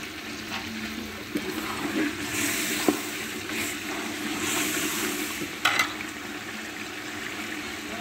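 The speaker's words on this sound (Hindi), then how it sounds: "अब मैंने इसमें चिकन डाल के ये भून रही हूँ" Chicken fries in masala in a pan, giving a steady broad sizzle with a few louder spits and scrapes, close and continuous throughout.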